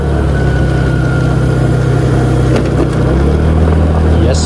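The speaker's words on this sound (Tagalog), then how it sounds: "Ayun, yun pala yung motor nila." A motorcycle engine idles steadily nearby beside a fishpond area, a low continuous rumble running the whole time with faint background noise.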